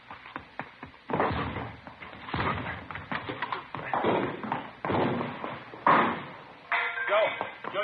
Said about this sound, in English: All right, let's go. Hit the door.